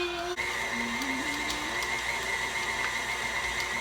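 Electric mixer creaming cheesecake batter for an Irish coffee cheesecake, a steady loud motor whir with a slight pitch shift early on, running alone without talk.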